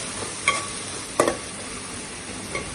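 Spoon stirring turmeric into a cluster bean and tomato curry frying in a pan, a steady sizzle underneath with a few sharp scrapes and taps against the pan, close and without speech.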